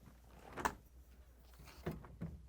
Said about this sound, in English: To get to the part, we need to open both French doors.